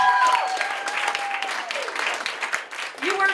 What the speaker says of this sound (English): Start clapping right now for my friend, Miss Micaela Fagan.